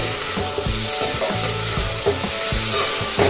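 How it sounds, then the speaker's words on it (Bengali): Prawns, taro root and potato sauté in a pan with ground cumin paste, giving a steady close sizzle and crackle with scraping stirs throughout and no talk. "ভালো করে জিরে বাটা আর গাঠি কচু, আলু আর চিংড়ি মাছ ভালো করে এখন আমি সাঁতলে নেব"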